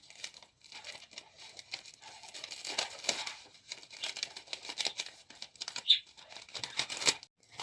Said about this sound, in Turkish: Şimdi bunları bir daha paketliyoruz.